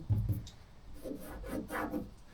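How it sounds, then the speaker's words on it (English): Scraping paint off a Mazda CX-7 car door, a few close rasping strokes in quick succession, fairly quiet and with no talk. "Because you can scrape this"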